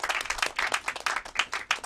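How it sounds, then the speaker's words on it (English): Applause rings out for the chief guest at a youth film graduation ceremony in Africa, with many hands clapping in a fast, uneven patter that carries on steadily throughout, close and fairly loud. "a loud of applause to our chief guest"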